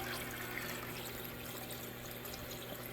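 Water from an Aqueon waterfall aquarium tank spills steadily over an overflow edge into a small chamber below, a continuous close trickling and splashing with a low pump hum beneath, no voices.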